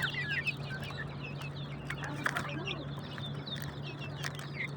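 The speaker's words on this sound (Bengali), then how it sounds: "মুরগিগুলো" Desi hens and young chicks on a small farm at night cluck and peep softly in scattered bursts, with a steady low hum beneath and occasional faint movement nearby.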